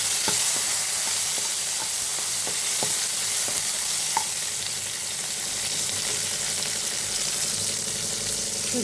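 Chopped tomatoes sizzle and fry in a hot chilli tempering for rasam, a steady close crackle with intermittent stirring clicks of a spoon against the pan throughout.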